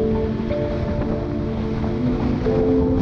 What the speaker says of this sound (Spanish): el mar está muy crecido